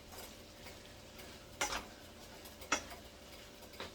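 Keema samosa stuffing with green chili and coriander stirred in a pan: a soft low sizzle under three sharp spoon scrapes and knocks against the pan, spaced about a second apart, no talk.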